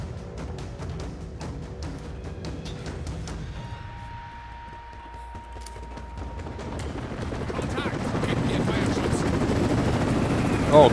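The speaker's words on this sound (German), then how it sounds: "Nicht schon wieder der Heli." Enemy helicopter attacking in the video game Rise of the Tomb Raider, rotor thrum with bursts of gunfire and mechanical effects, growing louder toward the end, while a player talks over it.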